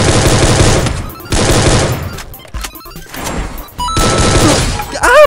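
Loud bursts of automatic gunfire in the Free Fire battle game, fired in long rapid volleys separated by short gaps, with shorter cracks and a rising electronic whine near the end.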